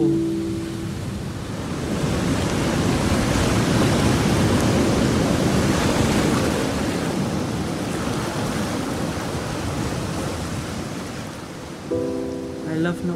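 Sea waves roar steadily onto the shore at Mouth Mill, a broad continuous surf wash that swells and stays loud throughout, with a faint tonal sound near the end.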